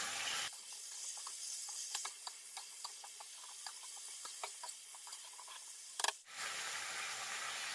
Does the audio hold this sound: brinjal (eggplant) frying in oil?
yes